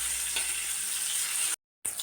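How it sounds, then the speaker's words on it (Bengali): Pieces of belly-cut fish fry in a pan with a steady, bright sizzle that fills the clip, close and fairly loud, broken by a brief gap of silence near the end before the hiss resumes. "সেই মাছটা আমি ভেজে নিচ্ছি বন্ধুরা"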